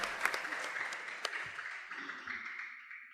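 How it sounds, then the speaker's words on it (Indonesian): Audience applause at a family quiz competition between church district teams, a steady wash of clapping from a crowd that holds throughout and slowly fades toward the end. "Ya, tepuk tangan untuk kita semua."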